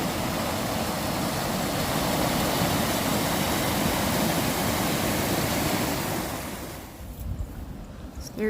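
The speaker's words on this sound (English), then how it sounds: "Boy, this river really moves." Fast-flowing river at Montauk State Park rushes as a steady, loud broadband wash for about six seconds, then thins out and becomes quieter, with a little wind buffeting the microphone.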